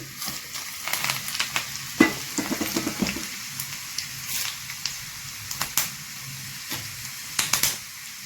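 Dried red chillies and curry leaves sizzle in hot oil as a tempering for a chilli pickle, crackling and popping in irregular sharp bursts over a low frying hiss, close and fairly loud.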